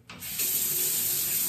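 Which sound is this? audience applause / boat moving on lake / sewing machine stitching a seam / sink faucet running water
sink faucet running water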